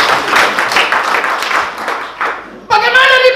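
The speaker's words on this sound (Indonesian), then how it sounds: "Tepuk tangan dulu buat Om Michael" Applause in a church congregation, a few seconds of close, loud hand clapping that thins out before a voice starts speaking.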